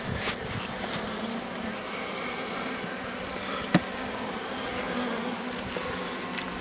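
Honeybees hum steadily at a hive in spring during a first colony inspection near woodland, a dense continuous buzz with a brief click partway through.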